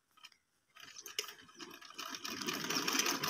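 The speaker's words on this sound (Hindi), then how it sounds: "यहाँ पर जो है सूट सिलाई हो रहा है छोटी सिस्टर का" A sewing machine stitching a mehndi suit starts after a brief pause and then runs in a quick, steady mechanical whir with rapid needle ticks, close and moderately quiet, growing steadier toward the end.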